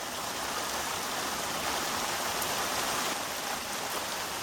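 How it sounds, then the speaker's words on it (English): Heavy rain pours steadily on a campsite at Cheesequake State Park, New Jersey, a dense, even wash of drops drumming close and loud on surfaces, with no voices. "I didn't think it was going to rain this hard."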